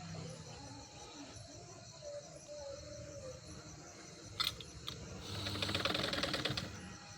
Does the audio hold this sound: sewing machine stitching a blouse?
yes